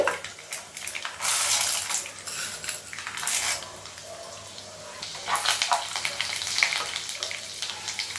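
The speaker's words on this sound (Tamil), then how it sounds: "எண்ணெய் சூடி எரிச்சு அதில் காஞ்ச மிளகா அஞ்சு கிள்ளி போட்டிருக்கேன்" Five dried red chillies, broken by hand, crackle in hot oil, with bursts of sizzling hiss alongside clinks of utensils and pans, close and moderately loud, with no voices.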